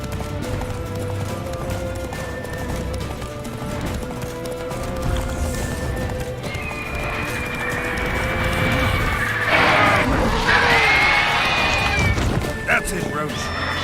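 A horse gallops and neighs in a video game, with continuous rhythmic hoofbeats, a crash and a whinny later on, and game music and voices mixed over it.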